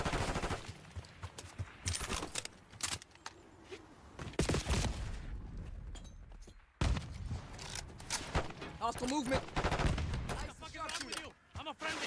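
Submachine gun fire and bullet impacts from the video game Call of Duty: Black Ops 6 come in loud, rapid bursts separated by short pauses, with thuds and footsteps mixed in.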